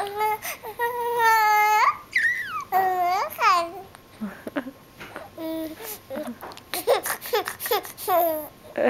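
A baby boy babbles and cries in bursts of wavering, high-pitched vocalising, close and loud, with whimpers and short pauses between outbursts in a morning home setting.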